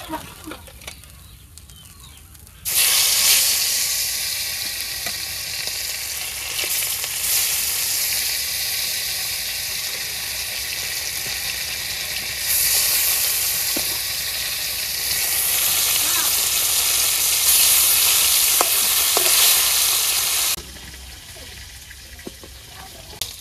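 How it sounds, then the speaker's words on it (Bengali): Pieces of fish sizzle and crackle in hot oil during village home cooking, a loud, steady frying hiss that starts abruptly after a few quiet seconds, swells midway and cuts off near the end. "বাকি মাছগুলো ভাজে নেই।"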